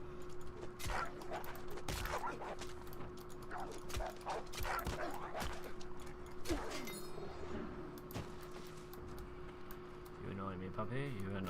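A puppy gives a run of short, sharp barks and yips at irregular intervals over a steady electronic hum and game sounds, with whimpering toward the end and someone talking at times.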